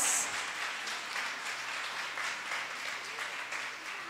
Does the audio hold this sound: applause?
yes